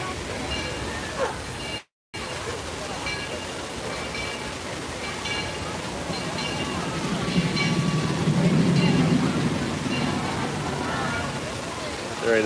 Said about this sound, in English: Oh, look, here comes another train.